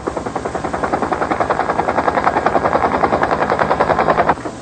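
A helicopter used for cargo and passenger flights by Air America thumps steadily at close range, its rotor blades beating in a fast, even rhythm that holds loud and constant before cutting off near the end.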